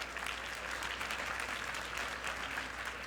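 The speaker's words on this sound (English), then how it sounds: "Yes, you're allowed to applaud that film if you'd like" Audience applause at the 1995 Spirit Awards ceremony for the film Eat Drink Man Woman, a steady dense wash of clapping from a large crowd, held evenly for a few seconds with no voices over it.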